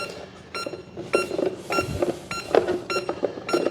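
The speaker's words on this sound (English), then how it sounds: "Not super worried about the beeping" A FlyWing EC135 GPS helicopter drone gives repeated short electronic beeps in an irregular series, fairly loud and close, over a faint background hum.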